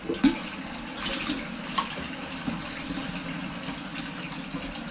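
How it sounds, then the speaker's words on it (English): A water bottle being topped up from a tap in a home kitchen, with a steady running-water gush lasting throughout at moderate loudness and no talking. "So I'm going to refill that a little bit, top that up."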